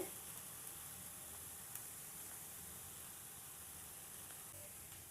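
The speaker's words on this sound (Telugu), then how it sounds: "ఇలా పచ్చి వాసన పోయేంత వరకు ఒక 2 నిమిషాలు వేపుకోవాలండి." Chicken filling for cheesy bread balls fries gently in a pan, a faint, even sizzle holding steady throughout with no talk.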